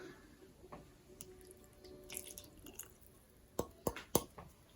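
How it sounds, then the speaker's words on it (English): Soft drips and splashes of water being poured into a homemade oil-free vegan barbecue sauce with molasses, ending in a few sharper plops, over a quiet kitchen background. "All right, adding in some water."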